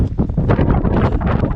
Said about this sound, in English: The gusts of wind around here are mental.